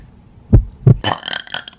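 A girl burps, two short loud belches followed by a longer rattling one in quick succession, close and clear with no talking.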